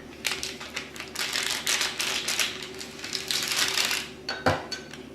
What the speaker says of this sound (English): Now I'll take my knife, cut some more.